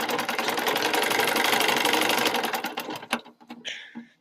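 A sewing machine hums steadily and close up while stitching the shoulder seam of a newborn baby garment, then slows and stops in a few clicks and thumps.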